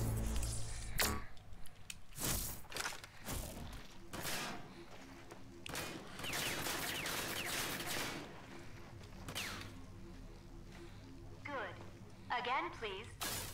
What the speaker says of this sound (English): Use the barrier accession to protect yourself against simulated enemy fire.